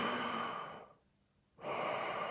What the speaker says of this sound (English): Well, Shindo's snoring isn't so bad.